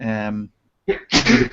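A single sneeze bursts out between bits of casual podcast conversation, close and fairly loud after a short hesitant sound and a brief pause.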